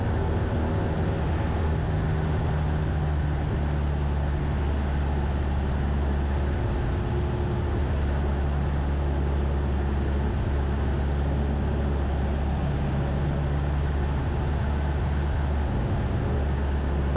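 Light aircraft engine throttled back after levelling off during touch-and-go practice, heard as a steady, unbroken cabin drone with a low, even hum and no voices.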